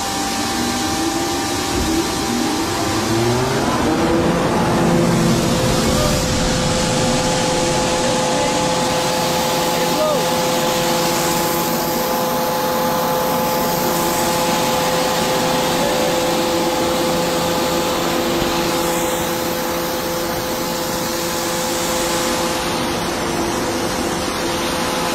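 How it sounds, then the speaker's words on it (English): Snow-making machine on a DIY snow park setup with steady rushing airflow and a running fan, a loud continuous whooshing drone with faint tonal hum, heard alone throughout. "You hear the airflow, and then the fan."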